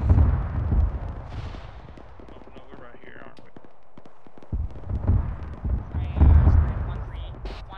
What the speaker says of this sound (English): The cannon sounds pretty sexy